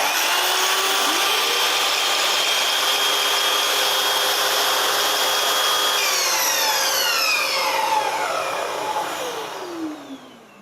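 A vacuum cleaner runs with a loud, steady whine and roar, its pitch shifting near the end before it powers down.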